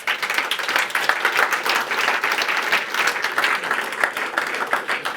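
A crowd at a climate hackathon awards event in Bratislava gives mentors a round of applause: dense, sustained clapping from many hands, loud and even throughout, then easing slightly near the end.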